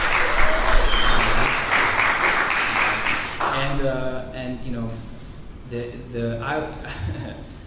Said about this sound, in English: Let's get a round of applause for This Is Improv.